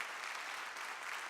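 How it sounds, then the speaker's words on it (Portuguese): A church congregation claps in praise during a worship service, a dense steady wash of applause that is faint and distant, with no voices clearly standing out. "Gostaria que você desse uma salva de palmas ao Senhor."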